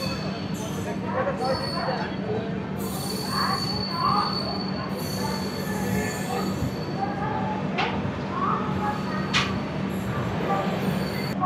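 A late night train from Kolkata to Puri rolls into Khurda Road Junction with a low, continuous rumble and occasional metallic squeals, while voices talk over it.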